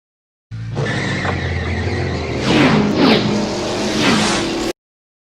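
Cars roar past one after another in a designed sequence, engines revving with swooping pitch changes and faint tire squeal, loud and continuous across the stretch.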